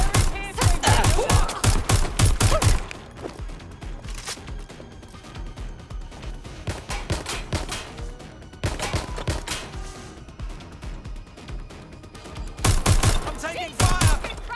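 Rapid bursts of gunfire from the video game Watch Dogs Legion, loud and close, come in dense volleys at the start and end with scattered shots between, under a busy game soundscape.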